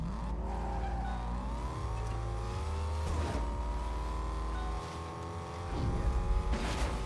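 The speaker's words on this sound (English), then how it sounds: "Now he has a car. It's low fuel, though." A car in Fortnite Chapter 5 Season 4, running low on fuel, drives with a steady engine drone whose pitch climbs and holds as it accelerates, with brief tire skids, continuous and close for the whole stretch with no talk.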